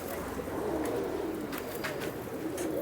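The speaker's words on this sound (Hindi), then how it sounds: "ये देखिए खुद ये कबूतर जो है ये" Pigeon cooing from an old bird of around 18 to 20 years, of the Chap breed kept by a Jammu pigeon fancier, low soft coos under steady background noise with faint rustling.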